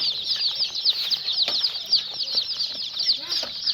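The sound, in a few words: chicks fluttering and clucking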